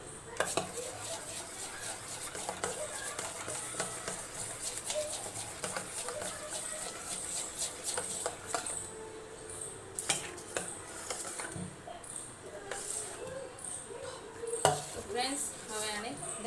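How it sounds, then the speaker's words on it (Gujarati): A spoon whisks gram flour (besan) batter for khaman dhokla in a bowl, making quick, repeated scraping and clinking strokes at close range, with soft room noise between. "ચમચીની મદદથી મિક્સ કરી લેવાનું છે સરસ એવી રીતના ફેટી લેવાનું છે"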